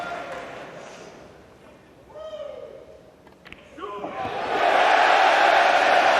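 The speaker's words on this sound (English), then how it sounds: "An untimely cheer on his backswing" A pool crowd at the 2023 Mosconi Cup, during Joshua Filler vs Fedor Gorst, murmurs quietly, then a sharp click rings out and a loud, broad cheer swells and holds to the end.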